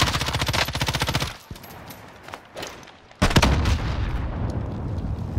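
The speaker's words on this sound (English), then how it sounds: "I'm taking fire!" Gunfire in Call of Duty: Modern Warfare, loud rapid automatic bursts up close, a pause with scattered shots, then a heavy burst and rumbling boom, no talk.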